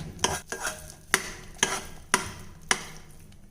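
A milk powder burfi mixture is stirred and scraped along the bottom of a pan, making about six sharp, evenly spaced strokes roughly half a second apart over a soft bubbling sizzle.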